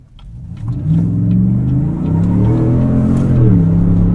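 A 2018 Chevrolet Tahoe RST's engine pulls hard out of corners, a steady, loud, rumbling rev that climbs and shifts pitch continuously from start to finish with no talking.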